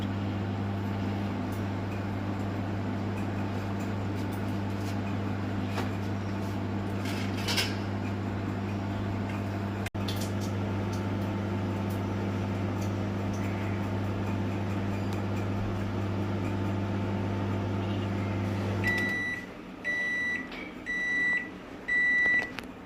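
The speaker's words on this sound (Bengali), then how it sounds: "মাইক্রোওয়েভ বন্ধ, আবার করলাম স্টার্ট" A microwave oven roasting masala papad hums steadily for a long stretch, then stops, and a string of high, clear beeps follows in a short rhythmic series, close and distinct.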